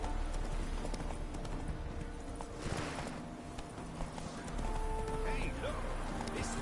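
Geralt's horse Roach galloping in The Witcher 3, quick rhythmic hoofbeats close by with a brief whinny, mixed with game ambience and a voice speaking over it.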